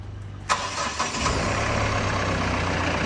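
A Mahindra Bolero Camper engine, just rebored and serviced, cranks and catches after a brief pause, then settles into a steady, close idle with a low, even hum.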